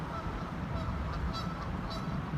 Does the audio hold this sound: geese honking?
yes